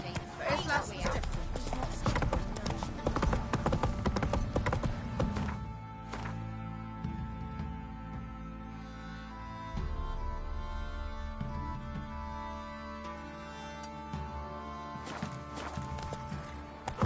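Roach, the horse in The Witcher 3 on PS5, trots with rhythmic hoof clip-clops under loud game music and ambience, while voices talk over parts of it.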